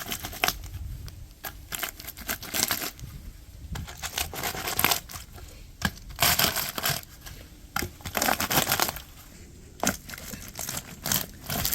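Acorns pressed and rubbed under a hand tool to split off their shells: dense crunching and crackling in uneven bursts, close and fairly loud, with brittle shell fragments grinding and rattling.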